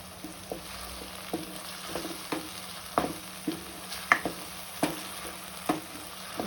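Sliced green chillies fry in hot ghee, giving a soft, steady sizzle under irregular scraping and tapping as a spoon stirs the pan, with no one talking.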